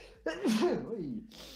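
A single sharp sneeze bursts out close to the microphone, a quick inhale then a voiced explosive release that trails off.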